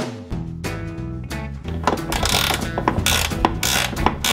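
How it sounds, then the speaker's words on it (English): Spanner ratcheting in rapid bursts of clicks while removing the battery terminal on an Alfa Spider, close and loud, with short pauses between runs of clicks and no talking. "All right, let's get the spanners out."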